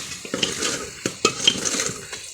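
Masala, potatoes and tomatoes frying in a pan, a soft sizzle under repeated scraping and stirring with a utensil, with sharp metallic clinks against the pan.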